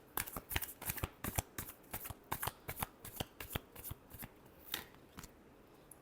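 Tarot cards are shuffled in quick, crisp riffling bursts, about twenty short flicks in a steady irregular rhythm, close and fairly quiet with no talking.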